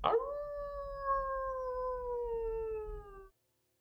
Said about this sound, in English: a blood-curdling howl shatters the silence, echoing through the winding streets